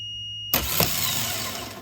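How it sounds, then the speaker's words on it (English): A used car starter motor on a bench test whirs up suddenly after a short quiet, then holds a steady, loud electric spin as its small drive gear turns, close by and with no voices. "Now if I press this button here, this little gear will pop out and spin."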